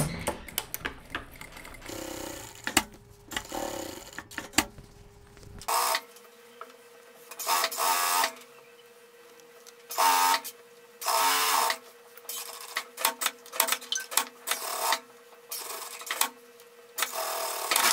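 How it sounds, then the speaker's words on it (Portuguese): A sewing machine topstitches along the contour of a boiled wool coat in repeated short bursts of rapid mechanical whirring, separated by brief pauses and small clicks of handling. "agora a gente vai pespontar esse contorno"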